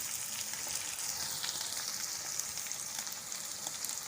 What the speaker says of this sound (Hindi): तेज़ आग पे हम इसको हिलाते जाएंगे ताकि ये प्याज भी अपना कलर चेंज कर ले